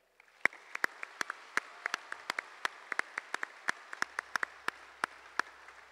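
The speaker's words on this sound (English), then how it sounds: "Please join me in a round of applause for the Expo staff." A small audience at a dairy expo's champion parade claps for the staff, producing sparse, uneven individual claps that ring out fairly clearly for several seconds.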